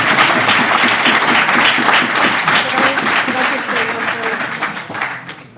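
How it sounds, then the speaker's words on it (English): An audience at a history lecture gives the presenter a warm round of applause, many hands clapping loudly at first and then gradually fading away toward the end. "a big round of applause again for Leah"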